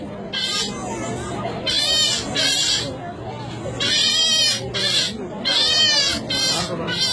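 A voice imitates a goat bleating, with several loud, wavering bleats separated by short pauses, close up.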